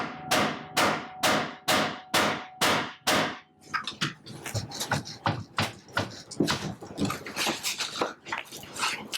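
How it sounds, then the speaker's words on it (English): Hammer blows on the steering wheel of a Polaris RZR 900S side-by-side: six loud, evenly spaced metallic strikes, then a looser cluster of quicker, lighter knocks and clanks. "go ahead and give it a couple hits, and we'll see"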